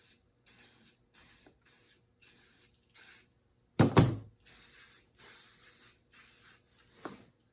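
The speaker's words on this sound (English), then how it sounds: "Just a little red aerosol paint." Red aerosol primer paint hisses from a spray can in about ten short, separate bursts, close and clear, broken by a brief knock or clunk midway and another near the end.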